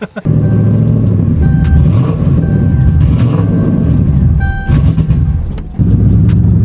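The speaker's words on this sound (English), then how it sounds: "I'm off the gas. There we go. It is idling." A car engine with a newly fitted big-injector and boost upgrade runs loud and close, a dense, steady rumble with faint beeps and brief knocks, settling back after a throttle blip.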